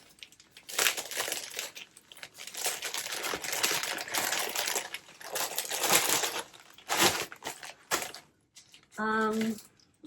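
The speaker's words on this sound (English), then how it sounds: "I'm gonna put it in the bubble mailer." A plastic bubble mailer crinkles and rustles loudly in bursts as an item is packed into it, ending with a short zipping or tearing sound.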